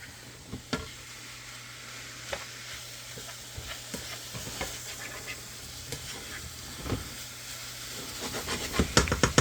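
Crab meat warming in a pan, giving a soft continuous sizzle broken by frequent spoon scrapes and taps that grow busier toward the end.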